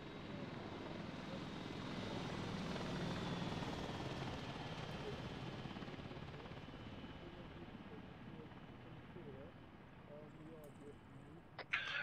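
A military helicopter in a video game passes by, a steady broad rotor and engine roar that swells near the start and slowly fades, with a sharp click near the end.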